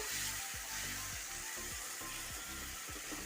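Lemon pieces for pickle stirred and roasted in a pan, a steady hissing sizzle broken by a rhythmic series of soft scraping strokes, close and alone with no voices.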